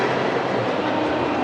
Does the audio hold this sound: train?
yes